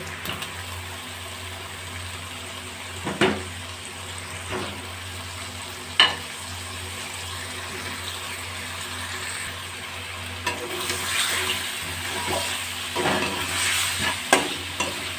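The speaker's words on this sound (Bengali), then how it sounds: "মশলার থেকে তেল বেরিয়ে গেছে এবার আমি আলুগুলো দিয়ে দেবো" Potatoes fry in spiced oil with a steady soft sizzle, punctuated by several sharp scraping stirs of a spoon against the pan, growing busier and louder toward the end; no talking.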